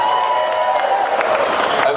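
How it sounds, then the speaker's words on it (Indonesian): Morning crowd at a campaign rally breaking into dense, continuous applause and cheering, loud and close, with a few shouts mixed in over the clapping. "Tepuk tangan untuk semuanya."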